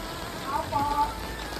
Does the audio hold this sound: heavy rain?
yes